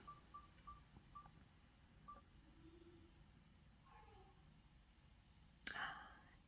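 An online prize wheel spun with a click to draw a mystery box winner: quiet, evenly spaced ticks for about two seconds, a faint pause, then a sudden loud chime-like burst near the end that fades away.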